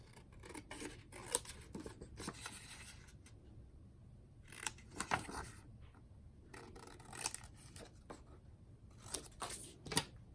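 Scissors snip out a paper journal cover in short bursts of crisp cutting, several quick clusters separated by brief pauses, close and fairly quiet.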